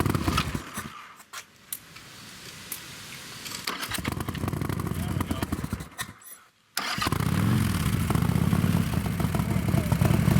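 A cold Harley-Davidson Sportster XXL 1883 motorcycle engine cranks with rough, sputtering bursts, cuts out briefly, then catches and settles into a loud, lumpy rumbling idle close by.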